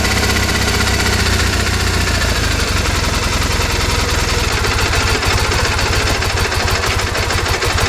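A 2001 Triumph Bonneville motorcycle engine idling roughly, a loud, close, continuous throb with uneven pulsing firing that stumbles irregularly throughout.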